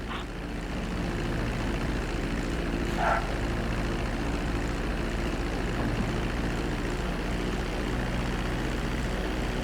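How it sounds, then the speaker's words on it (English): An airplane in GTA V makes a steady, loud engine drone as it descends toward the runway for landing, continuous throughout with no talking. "Start reducing the plane's altitude gradually so you're just above the runway as you approach."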